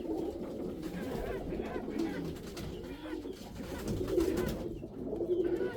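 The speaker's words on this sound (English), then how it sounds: "I'll let you guys get a good look at the birds." Pigeons coo steadily in a low, overlapping chorus close by, with a soft rustling background and no clear talking.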